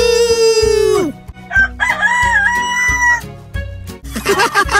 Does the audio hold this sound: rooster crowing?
yes